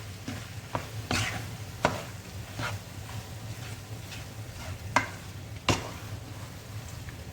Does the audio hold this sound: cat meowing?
no